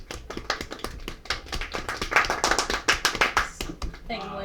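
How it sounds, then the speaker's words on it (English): Applause for the pillars at a feast in a great hall: dense, loud clapping from a crowd, steady through several seconds, with voices mixed in underneath before it thins out at the end. "Give them applause."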